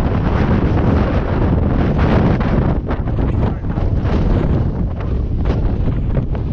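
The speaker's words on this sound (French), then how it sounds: "il y a pas mal de vent" Steady, loud wind buffeting the microphone, a continuous roaring rumble with gusty surges and no voices.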